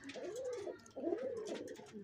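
Pigeons coo in soft, repeated rolling phrases, two or three in a row, fairly close, with no talking over them.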